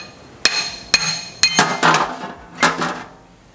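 A hammer taps out the axle of a Duramax transfer case from a junkyard truck, giving about six sharp metallic strikes with ringing decay, close and alone.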